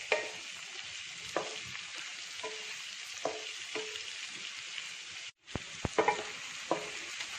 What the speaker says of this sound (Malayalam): ചെമ്മീൻ ചേർക്കുന്നു. നന്നായി മിക്സ് ചെയ്യുക.